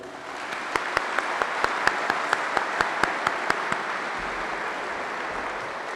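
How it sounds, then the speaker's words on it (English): Audience applause at the 377th Air Base Wing change of command ceremony at Kirtland, a steady wash of many hands clapping, with a string of sharper, distinct claps standing out near the microphone over the crowd. "Please, a round of applause for everyone who made this happen today."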